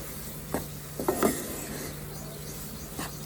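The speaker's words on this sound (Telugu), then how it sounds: "సో లో ఫ్లేమ్లో ఉంచుకుని స్లో స్లోగా కలుపుకుంటూ మొత్తం వేయించుకోవాలి" Gram flour roasts in a pan on a low flame while being slowly stirred, with a handful of soft scraping strokes over a faint, even background and a low steady hum.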